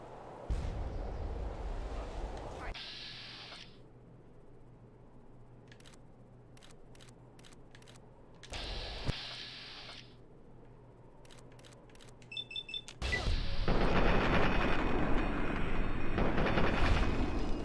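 Artillery shells detonate in Fallout 3's Operation Anchorage, loud booming explosions with rumbling tails at the start, midway and at the end, separated by quieter stretches of sharp clicks and game effects.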